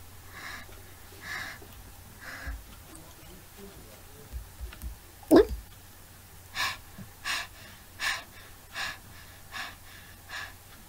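Panicked gasping and heavy breathing in a game story, with faint breaths at first, then a sharp sudden gasp followed by a run of quick, evenly spaced panting breaths, close and fairly quiet.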